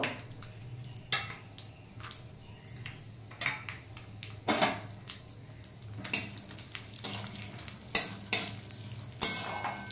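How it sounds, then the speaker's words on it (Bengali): Cashews frying lightly in hot oil in a pot while making home-style Bengali polao, with a steady soft sizzle broken by repeated sharp scrapes and clinks of a spoon stirring, close and without speech. "এদিকে আমি কাজুটা ভেজে নেব।"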